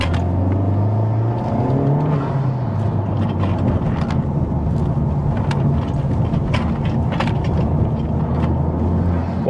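A Honda Civic Type R FK8 being driven, its engine and exhaust giving a steady, loud low drone with road rumble and occasional higher bursts, heard from inside the car with no talking.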